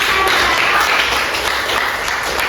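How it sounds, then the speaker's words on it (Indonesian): Classroom applause from a group of students, a steady dense patter of hands lasting throughout, fairly loud and close with no talk over it. "Mari kita tepuk tangan"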